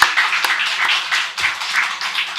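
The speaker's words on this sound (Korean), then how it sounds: "우리 한번 박수로 크게 하나님께 올려드립니다" Church congregation clapping together in a sustained burst of applause, dense and steady throughout with no voices over it.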